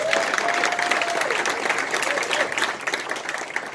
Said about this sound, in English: I want you guys to give yourself a round of applause